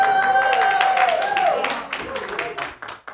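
A person claps in a studio with a run of sharp, fairly close claps. They sit alongside a sliding tonal sound and talking.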